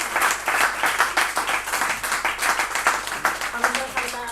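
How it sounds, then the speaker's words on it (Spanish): Concert audience claps in a rhythmic, evenly pulsed pattern, loud and close, with voices mixed in and a tone emerging toward the end. "un aplauso."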